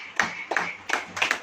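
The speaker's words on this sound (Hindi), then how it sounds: "ताली बजाइए" A church congregation claps in rhythm during a sermon, four moderately close bursts of clapping at a steady pulse.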